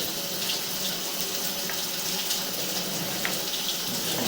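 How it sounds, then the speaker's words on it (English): A steady stream of water pours from a tap, a continuous broadband rush that stays even and close for the whole stretch with no talking over it. "and then we will shut off the water"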